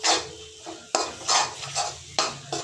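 Ginger garlic paste goes into a hot pan of Chettinad mushroom kuzhambu, giving loud bursts of sizzling and several sharp scrapes of stirring, close up with no talking.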